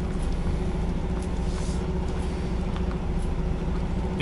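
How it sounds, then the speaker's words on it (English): Truck tractor unit creeping up a ramp, a low, steady diesel engine rumble heard from inside the cab, close and even with no speech. "The tractor unit's almost starting to go up the ramp now"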